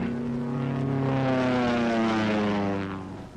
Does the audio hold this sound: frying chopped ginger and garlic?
no